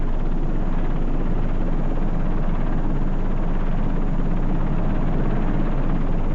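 Helicopter rotor and engine roar steadily and loudly, mixed with an ultralight aircraft during a 1984 mid-air refuelling attempt, a continuous dense drone with no pauses.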